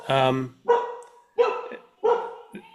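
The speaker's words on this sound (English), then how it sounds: "Did you hear the dog barking?" A dog barking inside a house, four sharp, fairly close barks spaced about two-thirds of a second apart, with a voiced sound at the very start.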